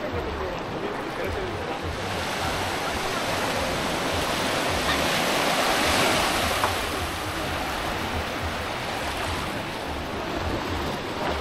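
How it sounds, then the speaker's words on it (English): Waves wash steadily onto a beach in Indonesia, a broad, continuous roar of surf that swells gently around the middle, close and fairly loud with no voices over it. "This is a mean ass beach right here."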